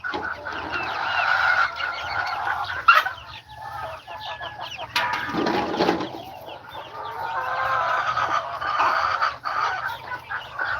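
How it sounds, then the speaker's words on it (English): Broiler chickens on a farm cluck and squawk loudly and almost nonstop, many birds calling over one another close by in the morning. "the chickens are so loud this morning"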